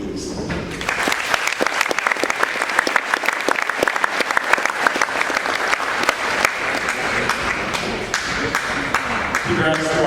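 A crowd at a high school athletic signing ceremony applauds basketball signees, sustained loud clapping with sharp individual claps standing out, rising after a brief start and continuing steadily with some voices mixed in.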